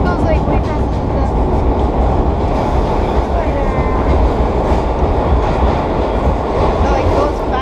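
A vintage New York City subway nostalgia train runs fast on the rails between 2nd Avenue and Queens Plaza, a loud, dense rumble with rhythmic wheel clatter and squeal heard from inside the car, with people talking over it.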